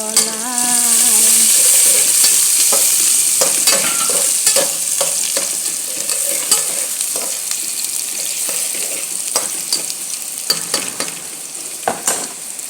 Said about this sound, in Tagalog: Gisa natin muna guys ang ating gulay.